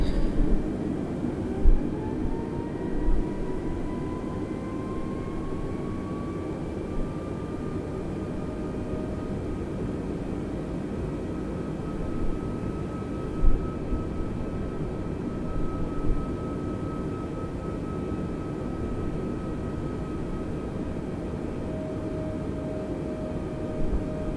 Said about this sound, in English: Must be very noisy for the people living underneath our plane.